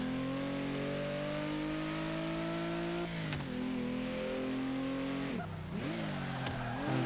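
A 2013 Mercedes-Benz G 65 AMG engine in Forza 5 drones steadily at high revs, its pitch climbing through the gears with two clear shift dips, close and loud without any talk.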